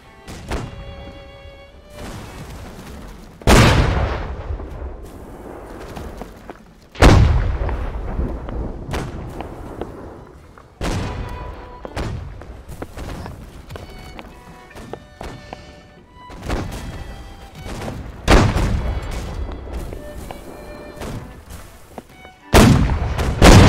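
Naval artillery in a ship-battle video game: heavy cannon blasts boom out every few seconds, each followed by a rumbling decay, with quieter thuds and distant impacts between the big shots.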